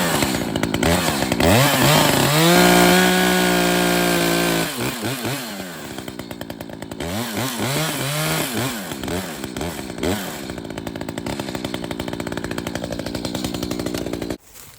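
A chainsaw cutting through a standing tree during a felling back cut, the engine revving hard and bogging into the wood, idling briefly between bursts, then settling into a long steady loud cut.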